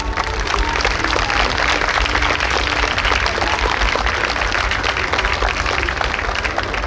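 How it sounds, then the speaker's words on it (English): An outdoor crowd at a New York State Police special operations exhibition claps steadily for several seconds, dense and sustained applause with no pauses. "We think it's those guys that deserve a real round of applause this afternoon."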